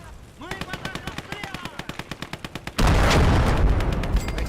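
Heavy artillery blasts from a World War II Eastern Front battle in Call to Arms - Gates of Hell, set at Glushkovo in January 1942. A rapid run of sharp, evenly spaced shots gives way to a loud, sustained roar of explosions. A voice is briefly heard.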